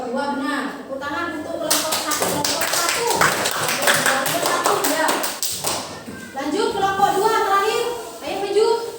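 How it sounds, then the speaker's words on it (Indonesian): Applause for a student group breaks out in a classroom, a burst of many hands clapping that lasts several seconds alongside children's and adult voices, then fades back into talk. "Tepuk tangan untuk kelompok 1."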